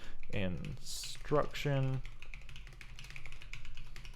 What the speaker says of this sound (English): That's a lot of typing the word instruction,